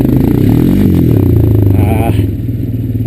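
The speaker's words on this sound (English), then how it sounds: "First time I've ever tried to do a wheelie on a four-wheeler, so again, see if I can get any more air." Honda Recon ES four-wheeler engine revving hard during a wheelie attempt, a loud, steady close-up drone that rises and falls through the throttle, with a voice talking over it.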